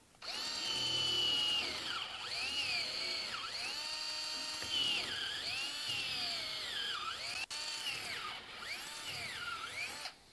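A power drill with a slightly dull bit whines in several drawn-out bursts while drilling holes, its pitch dipping and climbing as it bites into material, close and clear with no talking.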